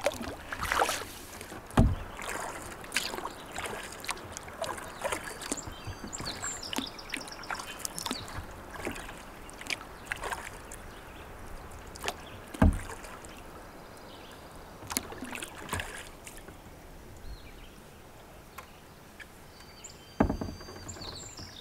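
A solo canoe paddled across a lake: rhythmic paddle strokes and water swishes repeat close by for about twenty seconds, with occasional knocks against the hull and faint birds in the background.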